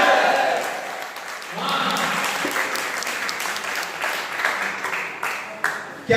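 Audience applause at a Hindi poetry gathering (kavi sammelan) for Atal Jayanti at a school in Maholi, a steady, moderate crowd clapping throughout with no talk.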